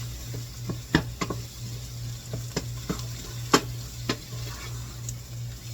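A flour roux cooks in a pan with a soft, constant sizzle, broken by scattered scraping knocks of a spoon stirring, all over a faint low hum.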